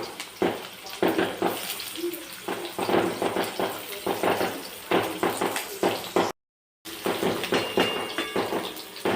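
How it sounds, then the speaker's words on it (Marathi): Onion sautéing toward golden in the same hot oil in a kadhai, a steady sizzle broken by repeated scraping and clattering stirs, close and fairly loud, with a brief dropout partway. "त्याच कढईमध्ये त्याच तेलामध्ये मी कांदा थोडासा गोल्डन कलर होईपर्यंत परतून घेणार आहे"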